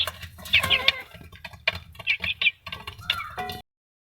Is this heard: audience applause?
no